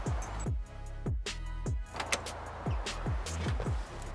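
A 1966 Ford Galaxie convertible cranks with a rapid series of rhythmic starter pulses, then a faint door thunk and the engine catching, heard close up with no talk.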